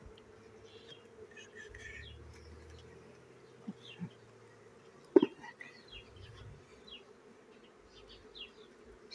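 Honeybees buzz around an open beehive, a steady faint drone with individual bees passing near, a few soft knocks of equipment, and quiet whispered voices in the background.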